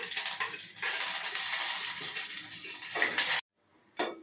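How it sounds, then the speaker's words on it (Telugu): A handful of curry leaves drops into a hot mustard, cumin and red chilli tempering for vamaku rasam, giving a bright burst of loud spattering sizzle close by that swells, cuts off, then briefly flares again. "దీనిలోనికి కొద్దిగా కరివేపాకు వేస్తున్నానండి."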